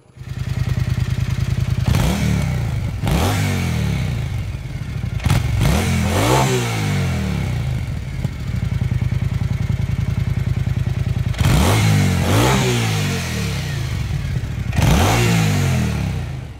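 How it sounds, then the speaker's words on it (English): A motorcycle runs close by at a steady idle, then revs hard several times in sharp rising and falling bursts, with a loud, throaty exhaust note between the revs. "Right, time for some exhaust notes."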